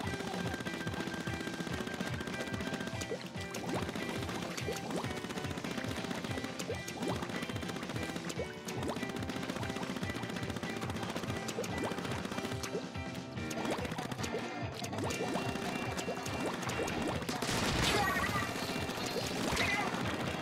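Rapid ink-weapon fire in the Splatoon video game on Wii U sounds as a dense stream of splatty shots while the floor is painted during a Turf War match, steady and loud over game music.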